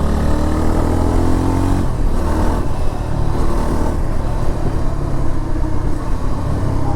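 Yezdi Adventure motorcycle's single-cylinder engine runs steadily through its single exhaust, a loud, close, continuous rumble with a slight rise in revs partway through, no talking.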